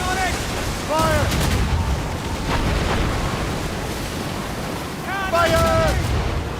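Ship cannons firing during a naval battle in Assassin's Creed Rogue: several sharp booms over a constant roar of wind and ocean surf, with a voice shouting at intervals.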